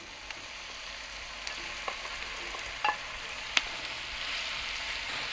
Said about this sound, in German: geben wir gleich Chorizo mit hinzu.